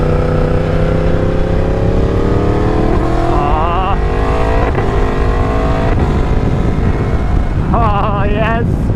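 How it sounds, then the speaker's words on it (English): Motorcycle engine pulling hard along twisty roads, loud rising revs climbing through gears with brief drops between shifts, steady wind buffeting on the microphone throughout. "I missed this bike so much."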